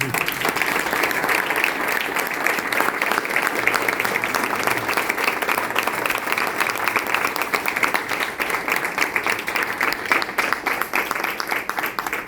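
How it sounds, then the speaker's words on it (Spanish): An audience applauds at a Spanish-language social poetry event, sustained dense clapping that stays loud and even for the whole stretch. "Así que un aplauso muy grande."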